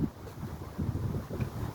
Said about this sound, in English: Dang, the wind's blowing.